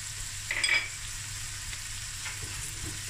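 Garlic, parsley and paprika sizzle steadily in a frying pan, a brief scrape of stirring rising near the start over the continuous crackle.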